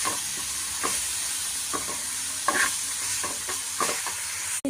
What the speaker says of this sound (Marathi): हे सगळं चांगलं परतवून घ्यायचं आहे आपल्याला।